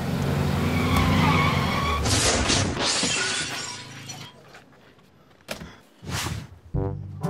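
Car crash as a car drives straight ahead, with a loud burst of tires and engine noise, then shattering glass and heavy impacts, followed by scattered thuds and debris sounds, close and without speech.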